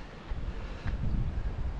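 Strong wind buffets a microphone outdoors during a ride on a new Ribble e-bike, a steady low roar that swells and gusts throughout.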